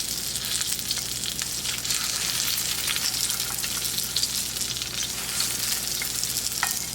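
A salmon fillet sears in a hot pan, giving a steady, loud frying sizzle that runs unbroken for the whole stretch with no talking.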